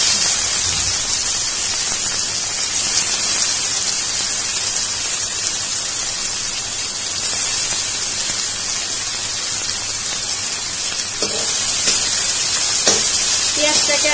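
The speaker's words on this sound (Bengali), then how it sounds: "এখন এই তেলের মধ্যে আমি কোচানো পেঁয়াজগুলি দিয়ে দিচ্ছি।" Sliced onions tipped into hot oil tempered with black cumin, a steady loud sizzle and hiss of frying that holds evenly throughout, with a few brief clatters near the end.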